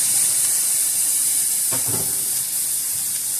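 Onions and garlic sizzle in a pan on a home stove, a steady close hiss with a brief crackling flare partway through.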